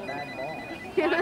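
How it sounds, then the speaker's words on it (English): Mobile phone ringtone playing, a short melodic electronic trill that swells near the end, heard under light background chatter and talk. "Is that my phone? I think it is my phone."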